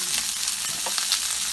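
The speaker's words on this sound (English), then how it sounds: "let's add a little more virgin olive oil, and let's go ahead and cook our asparagus." Asparagus sautéing over high heat in virgin olive oil in a pan still holding seasoning from tilapia, a constant close crackling sizzle with faint stirring ticks and no talk.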